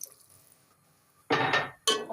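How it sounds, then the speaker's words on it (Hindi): Water pours into a cooking pot of peas and potatoes for matar pulao in two separate bursts: a longer, loud gushing pour and then a second short splash, both close to the mic with no talk. "इसमें डाल देंगे तकरीबन 3 से 4 कप पानी, ताकि मटर भी गल जाए और आलू भी।"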